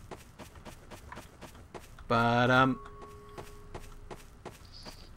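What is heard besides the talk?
footsteps in a murder mystery video game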